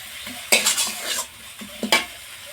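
Spiced masala sizzling in a pan for egg biryani as fried onions are stirred in, with close scraping of a spatula against metal in a few bursts over a steady frying hiss.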